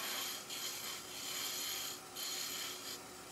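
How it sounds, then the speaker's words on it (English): A small skew chisel, the Colwin signature skew, cuts wood on a lathe while turning a Christmas tree bird box, giving a steady close hissing rasp that surges and eases in several passes. "is that a small skew chisel that you're using?"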